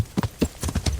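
A horse's hooves clip-clop in Kingdom Come Deliverance, a short run of quick, distinct hoofbeats landing close and crisp with no other sound around them.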